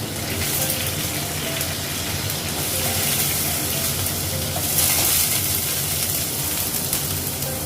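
Green and dried chillies frying in hot oil in a wok, giving a loud, steady sizzle with crackling and occasional stirring throughout, no voices.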